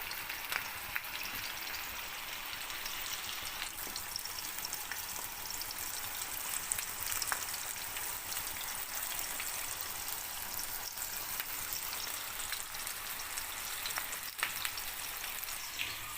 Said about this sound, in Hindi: मैंने सारे करेले इसमें डाल दिए हैं। अब मैं इनको फ्राई करूँगी।